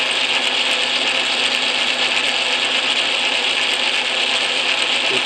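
An old Atlas Craftsman metal lathe runs steadily with its carriage engaged, giving a loud, continuous whirring and grinding mechanical drone without pauses or talk.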